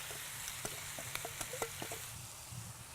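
Vegetables with a little oil sizzling in a hot cast iron skillet, a soft, even hiss dotted with small pops and crackles, faint and steady, with no voices.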